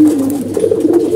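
Pet pigeons cooing close by, a low throaty warble repeated in soft rolling bursts, alone with no talk.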